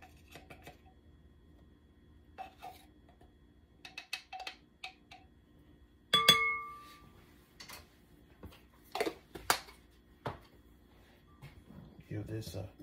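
Whisking baking powder and dry baking ingredients in a glass bowl, heard as scattered clinks and light scrapes with quiet gaps, plus one sharp ringing knock partway through.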